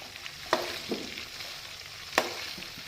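Okra (bhindi) frying in a pan gives a faint, steady sizzle, broken by a few sharp clicks of stirring, with no voices.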